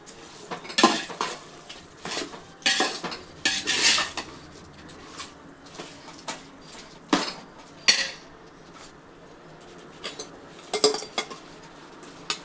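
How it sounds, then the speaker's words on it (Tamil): Chicken biryani ingredients stirred and sautéed in a pan, with irregular metallic scrapes and clinks of a spoon against cookware over a faint sizzle, close and clear with no talking. "இப்போ எல்லாத்தையும் ஒன்று சேர வதக்கணும்."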